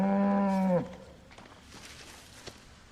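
A cow in a video game gives one loud, drawn-out moo that falls off sharply, followed by faint ambient clatter and quiet game sounds.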